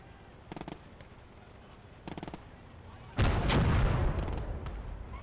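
Artillery and gunfire in the World War II video game Call To Arms: Gates Of Hell, two quick crackling bursts of small-arms fire followed by a heavy, booming explosion that rumbles and slowly fades.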